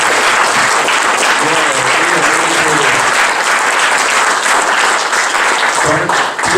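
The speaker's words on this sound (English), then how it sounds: "give them a round of applause" Loud, sustained applause from a seminar audience at a craft cannabis event in Santa Cruz, dense and close. A few voices murmur or call out faintly underneath.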